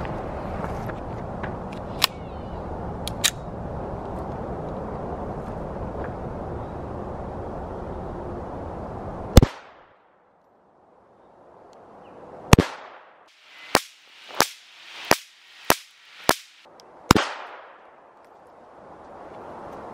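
Sharp gunshots from a Walther CCP pistol crack out during a shooting session: one loud report, then after a quiet pause a rapid string of about seven shots, each a hard crack with a brief echoing tail, close and with no talk.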